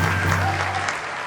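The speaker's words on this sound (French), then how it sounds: "Applaudissements pour les gens de Boaké, s'il vous plaît" A brief burst of clapping, called for to greet callers from Bouaké on a French-language radio show, sounding dense and steady with a low hum running beneath it.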